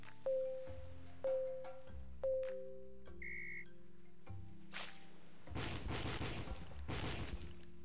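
Target shooting in the mobile adventure game Seabeard: a few chiming tones lead into a couple of loud, broadband gunfire bursts near the end, with no talk over them.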